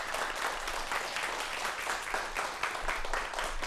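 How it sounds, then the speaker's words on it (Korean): Studio audience on a Korean science talk show applauding to welcome two guests, a steady dense wash of clapping that holds at even loudness throughout. "박수로 환영해 주십시오."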